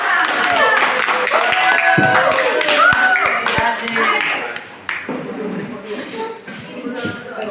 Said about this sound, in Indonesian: Beri aplaus semua. Kelompok 5.